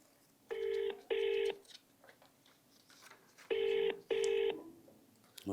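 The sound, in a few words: telephone ringing on a call to the MRO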